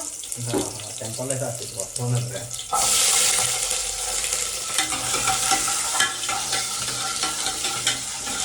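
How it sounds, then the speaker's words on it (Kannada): Small onions hit hot oil and start frying. A voice speaks briefly at first, then a loud, continuous sizzle with stirring takes over and stays steady to the end. "ಆಯಿಲ್ ಹಾಕಿ ಸ್ವಲ್ಪ ಈರುಳ್ಳಿ ಇಲ್ಲಿ ನೋಡ್ಕೊಳ್ಳೋ"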